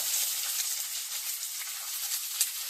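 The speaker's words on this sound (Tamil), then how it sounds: "இப்போ அப்படியே கொஞ்சம் வதக்கி விடலாம்" Onion and green chili sauté in a hot pan with a soft, steady sizzle and hiss, close by and fairly quiet, with a small pop near the end.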